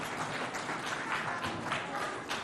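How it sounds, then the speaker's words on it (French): Audience applause at a school contest between IPEP 2ème and IPEP 3ème in Moundou: a short burst of scattered, moderately loud clapping from a crowd, with no talk over it. "On applaudit pour ce travail et tous ces conseils-là."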